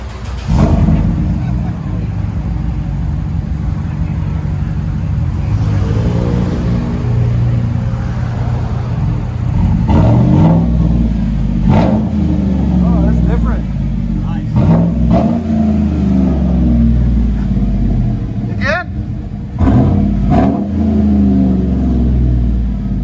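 Deep, throaty V8 rumble from a 2015 Chevy Silverado 5.3L with dual exhaust, idling and revving close by in repeated surges, with voices talking over it.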